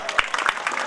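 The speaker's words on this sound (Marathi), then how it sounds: "त्यांच्यासाठी एकदा जोरदार टाळ्या वाजवा" Clapping from an audience at a school prize distribution ceremony, given for a drawing teacher; a short, dense burst of hand claps filling the room, with crowd murmur beneath.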